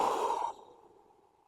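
A long, forceful exhale during a guided breathing exercise, loud and close at first, then cutting off sharply after about half a second and trailing into a faint, quiet breath.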